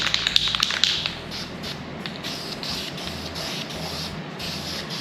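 A light protective rust coating is sprayed onto welded metal of a Model A hot rod, a steady close hiss with a few faint taps near the start.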